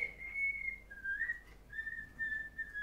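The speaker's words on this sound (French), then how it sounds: "un petit chanteur qui est en train de siffler sa chansonnette." A small pet bird kept indoors sings a thin, sustained whistling song in long steady notes with slight pitch slides, fairly faint against a quiet room.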